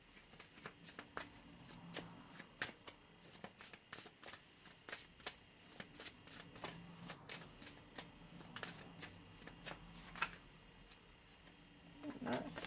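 Oracle cards being shuffled for a tarot reading make a steady run of soft riffling and flicking clicks, close and faint.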